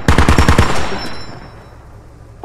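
A rapid burst of about six machine-gun shots from the military video game Squad opens loud and close, then a long echoing tail fades away.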